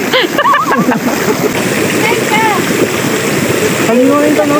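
Water splashes and churns steadily as people swim at an outdoor farm resort in Pampanga, with busy overlapping voices and shouts throughout.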